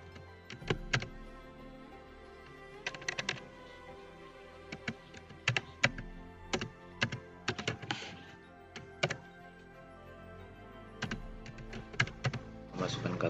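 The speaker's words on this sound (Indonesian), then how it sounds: "kita ketikkan email kita" Keys clatter on a computer keyboard as an email address is typed, in clustered bursts of clicks separated by short pauses, fairly close with a faint low background.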